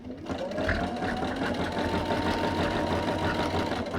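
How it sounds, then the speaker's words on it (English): A sewing machine stitches a straight seam on a hexagon quilt project, spinning up from a brief pause into a fast, steady mechanical whir that holds close and loud to the end. "I'm just going to stitch straight again."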